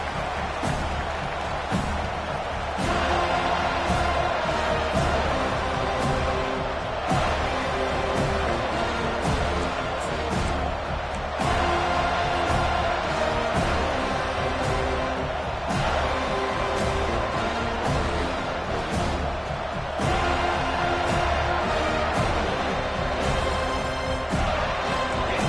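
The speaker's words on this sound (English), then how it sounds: "It's early, but this crowd is fired up. Listen to this noise here." A loud stadium crowd roars continuously in the video game NCAA 25 football, swelling in repeated waves of cheering with some noisy clatter underneath.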